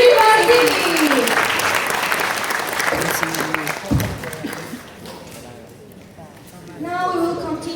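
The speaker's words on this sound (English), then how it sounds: "please give a round of applause for" Applause follows a university team's presentation at the ASIA BRICOM 2019 event in Indonesia: loud clapping at the start gradually thins and fades, and a voice speaks toward the end.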